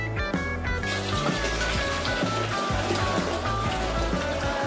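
Liquid from a home brew is poured steadily through a colander into a vessel, making a continuous splashing trickle that stays fairly loud and even throughout, with no voices.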